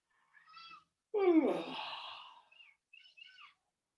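A person yawns once, a drawn-out voiced breath that rises and then trails off, close and quiet, followed by a few faint breathy sounds.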